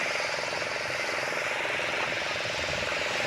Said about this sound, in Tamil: கேட்குதா போட்டு சவுண்டு